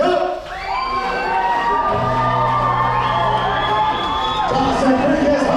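A crowd at an Alaska lumberjack show cheers and shouts loudly during a sawing race, with children's whoops and an announcer's voice mixed into the roar.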